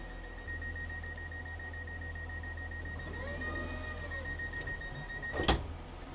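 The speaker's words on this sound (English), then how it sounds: "Now the close indicator is alight, and I can close the door by pressing the close button." Passenger door on a First Great Western Adelante train closing after the close button is pressed, with a steady warning tone and a rising mechanical hum ending in a brief solid thud, all against quiet cabin background.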